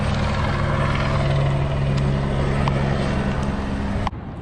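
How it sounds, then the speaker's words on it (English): A helicopter flies overhead with a loud, steady rotor and engine drone that cuts off abruptly near the end. "So that fucking helicopter."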